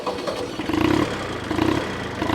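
A Japanese Mitsubishi engine on a mini tractor runs steadily at close range, a smooth and even mid-pitched drone with no knocking, heard alone.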